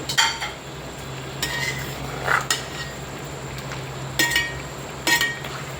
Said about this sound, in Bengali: এখন এ পর্যায়ে আমি দিয়ে দিচ্ছি ভেজে রাখা আলু করে দিয়ে ভালোভাবে নেড়ে দিচ্ছি